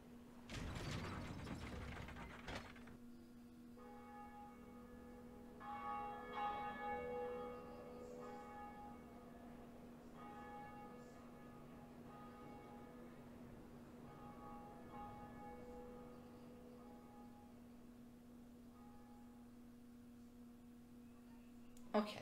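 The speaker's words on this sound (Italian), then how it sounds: "Stiamo per suonare la campana del risveglio." Bell of Awakening rung in a video game: after a loud burst, a sustained metallic bell tone hums steadily with shimmering overtones, ringing for a long stretch and slowly fading, with faint mechanical creaking beneath.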